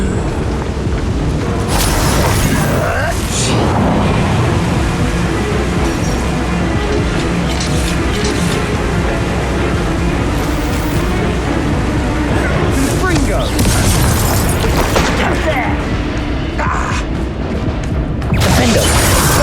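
Confringo explosion spell cast over and over in the video game Hogwarts Legacy: loud, dense booming blasts and crashing impacts in quick succession through a busy, continuous battle mix, with game voices calling out spells.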